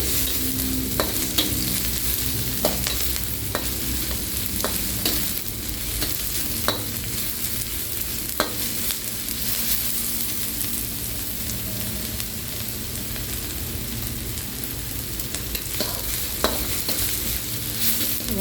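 Chopped onion sizzles steadily in a hot pan while a utensil stirs it with repeated scraping clicks, the frying hiss loud and continuous throughout with no voices.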